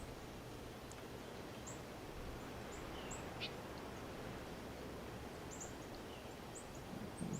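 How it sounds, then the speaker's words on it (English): Cardinals give sharp, high chip notes, scattered and fairly faint over a steady outdoor hiss during a birding outing, with a few spaced chips arriving in small clusters. "You hear the Cardinals giving their sharp chip notes in the background."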